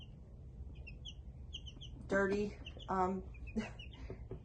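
Black and Buff Minorca chickens give a few short, close clucks and calls among faint chirping birds, with a person speaking briefly in the middle.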